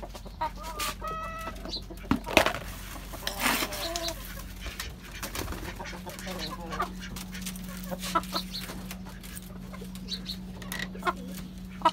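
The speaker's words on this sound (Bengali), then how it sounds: "আর এখন এই মুরগিগুলোর খাবার দিয়ে দিব।" Chickens being fed in a backyard coop in winter give soft, scattered clucks and a few sharper calls against a low steady hum, with quiet rustling and knocks between them.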